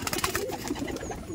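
A pair of Madrasi pigeons coo softly among other bird sounds at a pigeon seller's home, with faint, low, murmuring calls running throughout.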